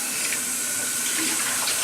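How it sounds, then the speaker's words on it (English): Rice being washed by hand in water, swished around in a steady, soft liquid sloshing that runs without pause for a couple of seconds. "Let me just go ahead and wash this rice. I just keep swishing it around till the water comes out pretty clear."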